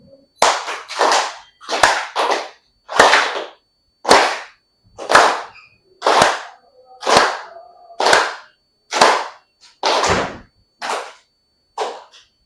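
A group of people claps in unison at a happiness workshop, about a dozen sharp, loud claps landing at a steady pace of roughly one per second with brief silence between each.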